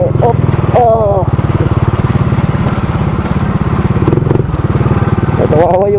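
A Honda XRM125 FI motorcycle engine revs and putters close by while riding a muddy enduro trail, a loud rhythmic drone with rising rev bursts, as voices talk over it.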